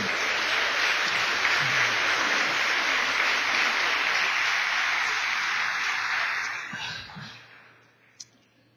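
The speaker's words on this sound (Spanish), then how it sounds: "Denle un aplauso al Señor." A church congregation applauding during a service, sustained clapping for several seconds that fades away near the end, leaving a brief quiet with a single small knock.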